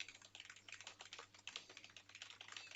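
Rapid, irregular clatter of keys on a computer keyboard as random text is typed, close and fairly quiet, carrying on steadily with no voices.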